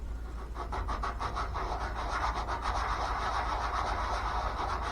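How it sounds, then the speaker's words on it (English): Small pieces for homemade fishing bobbers are rubbed back and forth on sandpaper to knock off nubs, giving a steady, close, rhythmic scratchy rasp that continues throughout with no talking. "rub these on the sandpaper here real quick"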